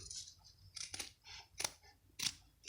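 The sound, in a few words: scissors trimming fabric seam allowances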